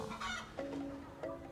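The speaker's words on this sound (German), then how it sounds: "Finde alle Hühner" Chickens clucking in the video game Star Stable Online, a few short fowl calls in separate bursts with no talking.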